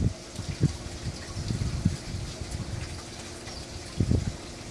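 Water pours steadily from small spigots into a large aquaponic fish tank fed from a sump tank, a continuous splashing flow with occasional louder gushes, no talking.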